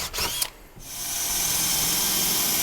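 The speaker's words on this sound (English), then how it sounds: "So now I'll drill those holes." A power drill with a smaller bit bores holes for grabber screws into a sheetrock ceiling support, a few brief bursts and then a long steady whine that holds loud and close.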